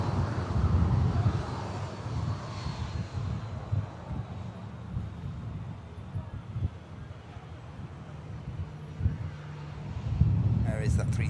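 A Jet2 Airbus A330 lands at Manchester Airport, a distant low engine roar swelling and fading amid wind rumble on the microphone and voices nearby.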